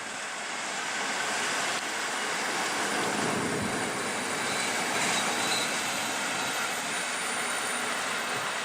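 A TLK passenger train rolls past platform 6 at Warszawa Zachodnia station in rain, a steady loud broadband rumble and hiss of wheels and carriages sustained throughout, with no speech.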